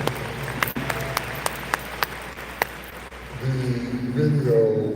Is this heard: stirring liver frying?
no